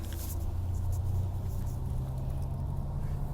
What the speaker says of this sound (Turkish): Şu an arabaya bindik ve araba gidiyor.